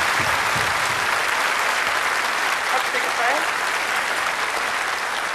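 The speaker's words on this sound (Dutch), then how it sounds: "Je kreeg zelfs een applausje van het publiek." A studio audience on a Dutch television game show applauds for a prize winner, a steady, dense wash of clapping that holds evenly throughout.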